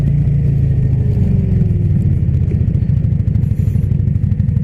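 A motorcycle engine runs steadily while being ridden, with a low, continuous rumble and slight pitch shifts; the deceleration cable has snapped and the throttle is brought back by hand when slowing.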